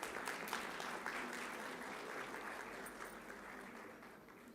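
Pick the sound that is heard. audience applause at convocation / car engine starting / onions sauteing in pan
audience applause at convocation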